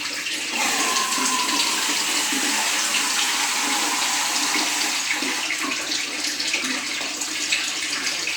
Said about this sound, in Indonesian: mengisi air untuk wadah pengkukusan